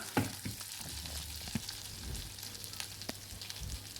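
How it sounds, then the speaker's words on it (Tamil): Crushed cumin, fennel and garlic frying in butter in a pan, a soft steady sizzle with a few light clinks and stirring sounds, no talking. "நான் இடித்து வச்ச இந்த ஜீரகம், சோம்பு, பூண்டு இதை சேர்த்துக்கிறேன். இதை சேர்த்துட்டு நல்லா ஃப்ரை பண்ணிக்கலாம்."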